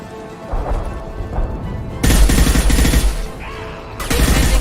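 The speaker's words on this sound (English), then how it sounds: "Explosion." Explosions and gunfire from a Mass Effect 2 battle: quieter rattling shots at first, then a loud booming burst with dense, rapid firing, a brief lull and another heavy blast.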